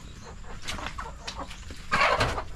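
Chickens cluck in a rural yard, several short clucks and calls at close to moderate distance, rising to a louder burst of clucking toward the end over soft background noise.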